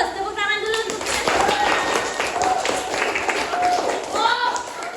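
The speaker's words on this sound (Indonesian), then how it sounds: "Tepuk tangan dulu untuk kita" Students in a classroom applaud their own group presentations, a few seconds of steady, close clapping mixed with voices and murmuring from the room.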